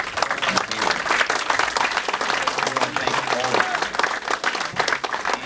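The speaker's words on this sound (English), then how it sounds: "one more round of applause for all the custom knife makers that volunteered their time" At a custom knife-making grind-in event, a crowd gives a round of applause for volunteer knife makers, a dense, sustained clapping with voices talking through it.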